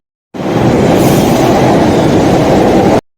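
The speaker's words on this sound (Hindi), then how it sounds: "तो चलिए मेट्रो आती है तो मैं चलता हूँ।" A metro train roars loudly into a Delhi station on a rainy Independence Day, a dense, continuous rumble of wheels and carriages starting abruptly and holding steady at full volume until it cuts off.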